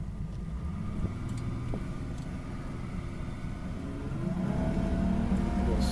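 An Evinrude E-TEC 200 HO outboard engine on a Grady White Sailfish boat drones steadily at low speed, then its pitch and loudness rise gradually as it begins to accelerate.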